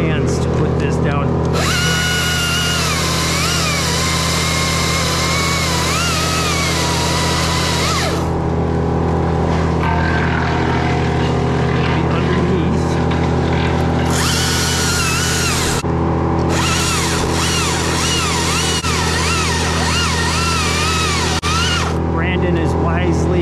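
Chainsaw making a brake cut in an oak tree, engine whining loud and steady with rising and falling revs, running almost throughout with short drops to idle.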